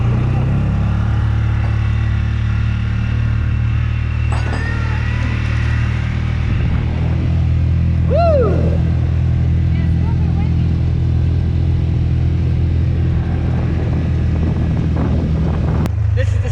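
A side-by-side utility vehicle engine drones steadily and loudly during a ride, a constant low rumble mixed with wind buffeting, with people talking over it.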